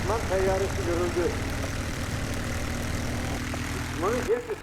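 An enemy aircraft engine drones steadily in the Forgotten Hope video game, a continuous propeller hum with brief voices rising over it at the start and end.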